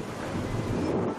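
Strong lodos windstorm in Bursa, with gusts near 100 km/h, roars as a loud, continuous buffeting rush against the microphone for the full length before abruptly cutting off.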